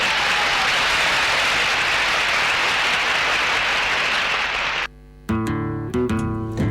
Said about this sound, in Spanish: Ese auditorio de la UNAM estalló en aplausos rabiosos hacia Salvador Allende por ese gran discurso